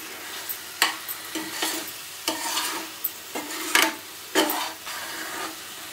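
Halwa is stirred in a pan on the stove, a spoon scraping through the thick mixture in a repeated rhythm of short swishing strokes over a faint low sizzle.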